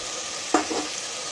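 Meat and spices frying in a hot pan: a soft, steady sizzle with one brief stirring scrape near the middle, close and alone with no voices.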